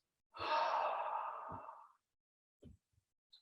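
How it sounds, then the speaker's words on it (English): A long, close, audible exhale through the mouth during a qigong lung-strengthening exercise, a breathy whoosh lasting over a second before fading, followed by faint small sounds in quiet. "Breathing in, breathing out, release."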